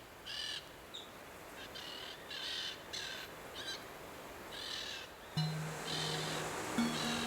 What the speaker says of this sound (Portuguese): E o pica-pau branco